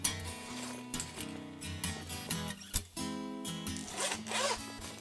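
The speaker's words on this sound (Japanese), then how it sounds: "ジッパー開ける、そしてここを開ける" A zipper on a black and gold backpack is pulled open in several short, close rasping strokes separated by brief pauses, with no talking.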